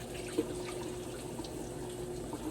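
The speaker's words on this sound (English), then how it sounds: "Go ahead and pour this old coffee out." Old coffee is poured out into a sink, a brief steady stream of liquid splashing against the basin, fairly close and moderately loud.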